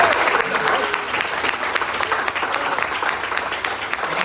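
Audience applause at a song debut event, a full, sustained round of clapping from a crowd, dense and even, with a voice faintly present beneath it.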